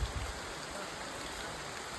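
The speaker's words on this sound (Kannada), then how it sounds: "ಮಳೆ ಬಂತು, ಮಳೆ ಬಂತು." Steady rain falls during an off-road trip to Ranipuram Peak, a continuous broadband hiss of drops with no voices, a faint low rumble at the start.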